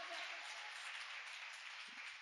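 A church congregation claps hands together in worship, a dense, steady patter of applause throughout.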